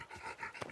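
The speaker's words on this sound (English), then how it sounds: "That's such a big dog." A big cartoon dog in an animated show pants in quick, soft, breathy puffs, faint and steady with a rhythmic rise and fall.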